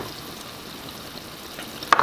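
Mushrooms and garlic sizzle in a cast iron pan beside a T-bone steak, a steady soft frying hiss near at hand, ending in a brief clatter as the food is stirred.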